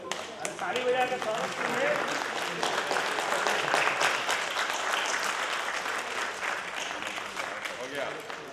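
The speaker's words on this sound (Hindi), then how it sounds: "ताली बजा के" An audience at the Baranwal souvenir magazine release ceremony claps steadily for several seconds, a dense, fairly loud wash of applause with voices mixed underneath, tapering slightly toward the end.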